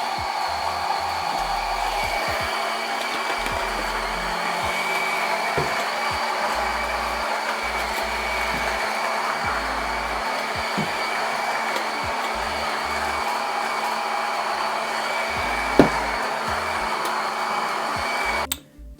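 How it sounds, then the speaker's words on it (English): A coffee grinder grinds beans for a caramel macchiato, a steady, loud whirring drone that runs unbroken for about eighteen seconds, then cuts off abruptly at the end. "Let me just grind up some beans."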